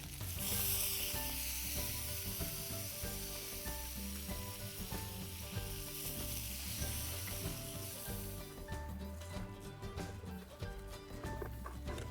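Fish frying in a pan with lemon squeezed over it, a steady loud sizzle and crackle running throughout, with faint clattering under it and no talking.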